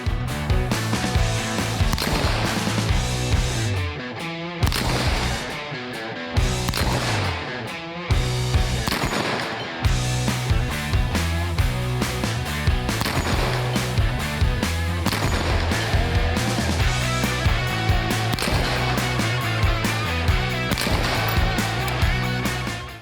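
Rifle fire at a 100-yard range, shooting through an Aimpoint Duty RDS-MR sight: a long run of loud, sharp shots in quick, fairly regular succession, close and alone with no talk.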